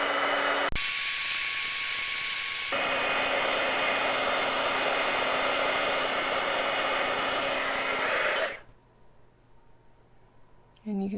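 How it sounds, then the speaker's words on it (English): A heat tool blasts a loud, steady roar of hot air over embossing powder on a Stampin' Up! stamped card, running close and constant for about eight seconds before cutting off to near silence. "And I'm going to use the heat tool."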